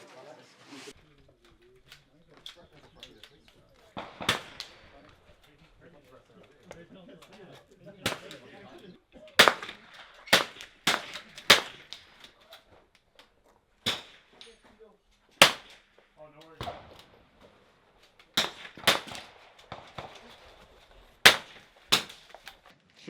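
Rifle shots ring out during zeroing at an outdoor shooting range before an NRL22 match, sharp isolated cracks spaced irregularly, some near and loud, others fainter, with birds and distant voices in between.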